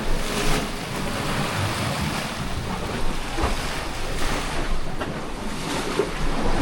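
Choppy sea waves churn and slosh in a rough, washing-machine-like tumble, loud and continuous with gusty wind noise on the microphone and occasional sharper splashes.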